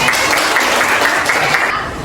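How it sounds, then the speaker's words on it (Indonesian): Close, loud clapping from a classroom of students during a lesson, a brief burst of dense applause that holds steady and eases slightly toward the end. "Tepuk tangan dulu untuk Arif."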